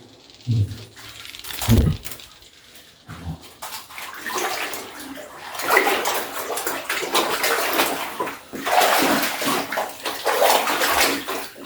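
Water flowing out of the mouth of a Japanese passage cave makes a steady rushing, splashing wash that swells and fades. Scattered bumps and footsteps sound near, with faint voices now and then.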